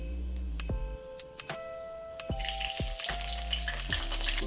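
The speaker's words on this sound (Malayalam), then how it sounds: "അതിലേക്ക് നമുക്ക് കറിവേപ്പില ഇട്ട് കൊടുക്കാം" Curry leaves sizzling in hot coconut oil with cumin, a close steady frying hiss that swells sharply louder partway through as the leaves hit the oil, with faint utensil clinks early on.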